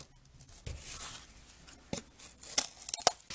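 Scissors cut out paper for a toilet paper roll Christmas tree, making quiet, close snipping and crinkling with a few sharper cuts scattered irregularly, soft and intimate, no voices.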